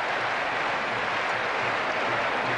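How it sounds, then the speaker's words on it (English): Stadium crowd at a 1993-94 Serie A match between Napoli and Milan applauding a substituted player, a broad continuous wash of clapping and crowd noise, steady and fairly loud. "Pollicano getting a good reception from the crowd"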